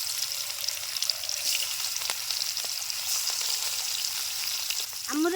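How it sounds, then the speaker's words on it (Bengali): Bata fish frying in hot oil: a continuous bright crackling sizzle, close and fairly loud, with a brief rising squeak near the end. "তেল গরম হয়ে গেছে, মাছ দিয়ে দেবো।"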